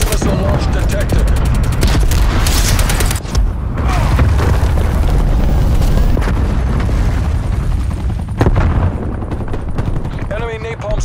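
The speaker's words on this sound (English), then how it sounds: "Enemy cruise missile launch detected." Constant explosions and heavy gunfire fill a Call of Duty Black Ops Cold War multiplayer match during a cruise missile strike, loud booming blasts and rattling automatic fire overlapping densely throughout, with in-game announcer voices and player talk underneath.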